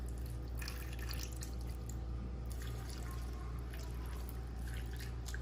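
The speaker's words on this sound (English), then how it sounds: "We're gonna pour the chicken broth into the pan." Chicken broth poured into the corners of a pan, a steady soft liquid trickle and splash with scattered drips over a constant low background hum, no talking.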